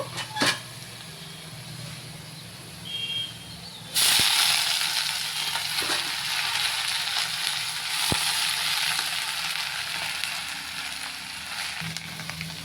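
Moringa greens tossed into a hot pan of oil after browning: a sudden loud burst of sizzling frying kicks in partway through and keeps crackling steadily, close up, with a few faint clatters before it.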